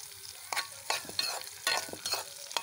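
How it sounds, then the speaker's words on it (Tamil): Small chopped onions fry and get stirred in a pan on the stove for a potato masala gravy, a steady sizzle broken by repeated scraping strokes of a spoon, close and clear. "குட்டியாக கட் பண்ணி வச்சுருக்கு ஆனியனை ஆட் பண்ணிக்கலாம்"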